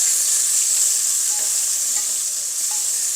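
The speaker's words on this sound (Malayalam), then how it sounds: "ഉള്ളി നല്ലോണം ഒന്ന് വഴറ്റാം" Sliced onions, three cut lengthwise, sauté in a hot pan with a steady, loud sizzle and occasional stirring scrapes throughout, no voices.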